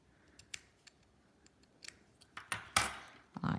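Scissors snip through yarn during a crochet project: a few light, crisp metallic cuts near the end, preceded by soft handling noises in a quiet room.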